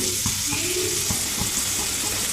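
Paneer frying with pepper, turmeric and spices in a pan gives a steady close sizzle, with soft scraping stirs at intervals.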